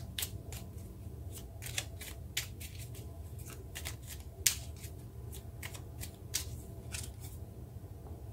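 Tarot cards are shuffled by hand before one is drawn, producing crisp, irregular snaps and flicks close by, spread through the whole stretch with quiet pauses between and nobody speaking.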